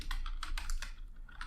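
Quick taps on a computer keyboard while entering JavaScript code, about half a dozen close, light clicks in an uneven rhythm, with no one talking.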